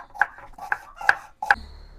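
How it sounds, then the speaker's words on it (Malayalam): A knife chops onions on a cutting board in a home kitchen, four distinct, evenly spaced thuds close up over roughly two seconds, with no talking. "സവാളയൊക്കെ നമ്മൾ കട്ട് ചെയ്ത് കഴിഞ്ഞു."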